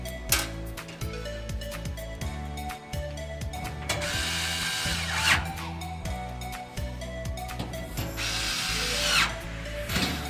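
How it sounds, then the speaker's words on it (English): Close power drill or electric screwdriver whirring in short and longer bursts while driving screws back into an Argos 15 motherboard, with clicking and ratcheting between runs. "we're gonna put back the screws."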